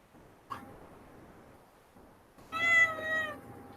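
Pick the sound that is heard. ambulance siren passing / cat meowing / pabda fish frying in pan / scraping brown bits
cat meowing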